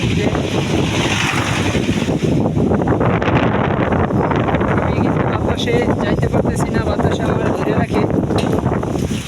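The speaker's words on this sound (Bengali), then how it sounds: "প্রচণ্ড বাতাস বন্ধুরা প্রচণ্ড বাতাস" Strong, gusty wind blowing outdoors as a storm approaches under clouded skies, a steady loud roar buffeting the microphone throughout, with a voice talking over it.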